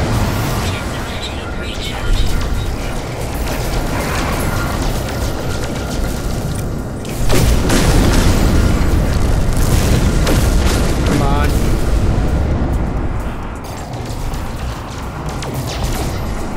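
Rocket blasts and explosions in space combat in No Man's Sky, loud booming crashes with a heavy burst around the middle, continuous rumbling throughout while a person talks over it.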